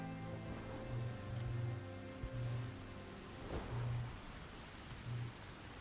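Steady rain falls in the video game Sky, a constant hiss with low tonal game music or ambience underneath and no talking.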